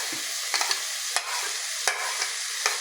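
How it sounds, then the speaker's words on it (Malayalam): Green chillies and curry leaves fry in a pan for a coconut-roasted mutton curry. A steady sizzle runs under a few sharp scraping stirs of the spoon, close and alone with no voices. "ഇളക്കി കൊടുത്തതിന് ശേഷം നമ്മുടെ പച്ചമുളകും വേപ്പിൻ്റെ ഇലയും ഇട്ട് കൊടുക്കാം"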